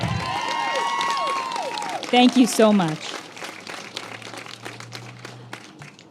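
Applause from an audience at a Women's Equality Day gathering, clapping and cheering beneath a speaker's voice, swelling briefly then thinning out toward the end.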